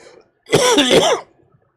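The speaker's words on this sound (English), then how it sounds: "I'm trying to do a real cough" One loud, close, rough cough, more like a forced throat-clearing hack, lasting under a second with no talking.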